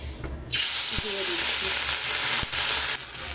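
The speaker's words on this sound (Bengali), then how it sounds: "মাছগুলো যতক্ষণ ভাজা হচ্ছে মাছগুলো বেশ কড়া করে ভেজে নিয়েছি" Fish rubbed with salt and turmeric drop into hot oil and burst into a loud, steady sizzle that continues close and unbroken, with a few faint clicks.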